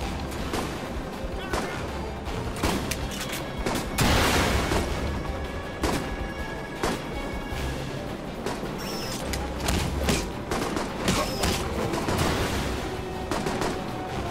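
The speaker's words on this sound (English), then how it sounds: "Who else is shooting rockets?" Rockets and explosions pound through a firefight in the video game Alpha Protocol, with heavy booms and scattered shots going off repeatedly while a voice talks over the chaos.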